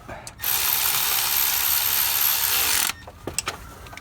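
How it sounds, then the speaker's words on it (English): Ratchet tightening water pump bolts on a Nissan Titan aluminum engine block, one long steady burst of rapid clicking, with a few short clicks and knocks after it, close and fairly loud. "Once you have all the bolts in and hand tight, go ahead and snug them up."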